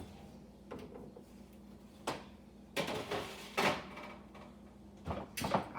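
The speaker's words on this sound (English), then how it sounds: "So I'm gonna pop my peanut butter cookies into the oven" An oven door opens and closes as a tray of peanut butter cookies goes in, several close thuds, clanks and scrapes in a kitchen, spaced irregularly.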